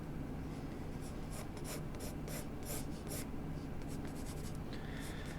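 A pencil sketches the outline of a hand on paper with soft, continuous scratching and rubbing strokes at close range, steady and fairly quiet, with occasional brighter stroke accents and no talking.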